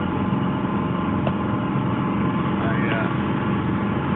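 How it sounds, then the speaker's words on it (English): A tractor engine runs steadily while driving down a road, a continuous low mechanical drone with rattling from the bumpy ride, close and constant throughout. "this tractor just bouncing"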